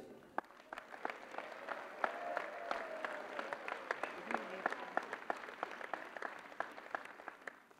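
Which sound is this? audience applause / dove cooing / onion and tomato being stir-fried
audience applause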